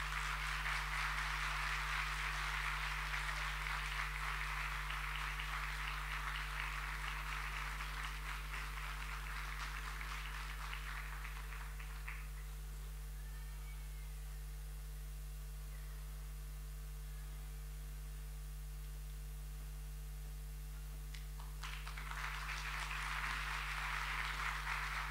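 An audience at a concert hall welcomes a choir to the stage with applause, a broad soft clapping that drops away midway and then swells again, all over a low steady electrical hum.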